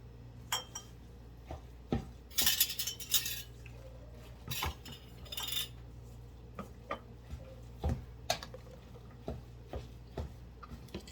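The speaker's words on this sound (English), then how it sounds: "I'm gonna move my pot over here." A cooking pot shifted across a kitchen counter while canning cranberry sauce, giving scattered metallic clinks and knocks of cookware and utensils, fairly close and moderate in level, with no talk.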